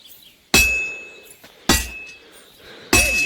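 Three heavy, evenly spaced hammer blows ring out as a sword is forged on an anvil in Kingdom Come Deliverance 2, each a loud metallic clang with a bright ringing tail fading before the next strike.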